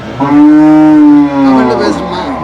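A single long, loud moo from a cow at the Melur cattle market, close by and sustained for over a second, then tailing off into low murmuring background.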